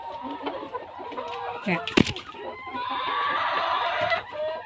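Laying hens recovering from fowl pox cluck in a basket, giving short overlapping clucks and squawks at close range, with a sharp burst of noise around the middle and a voice talking over them.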